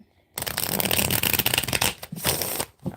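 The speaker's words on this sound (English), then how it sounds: "one more shuffle, and I'm about to deal the cards out" A deck of playing cards is riffle-shuffled up close, a dense crisp flutter lasting a couple of seconds, followed by a few softer taps as the cards settle.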